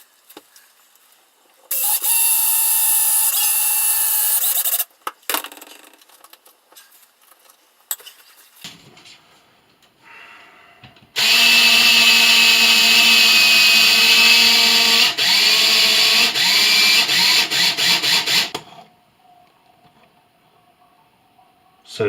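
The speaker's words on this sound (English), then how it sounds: "I'm going to take this self-tapping screw right here." Power drill driving self-tapping screws into a cracked toilet flange, in two sustained whirring bursts, a short one early and a longer one mid-way, with brief handling clatter between them.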